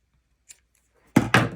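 Scissors cut through crochet yarn: one faint tick, then two quick, close, sharp snips in succession with no talking.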